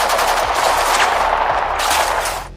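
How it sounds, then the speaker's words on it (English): Rapid bursts of gunfire erupt in a dense, loud volley at close range, rounds hammering into a doorframe as the shots run almost continuously for a few seconds before tapering off. "A series of gunshots ring out, striking the doorframe."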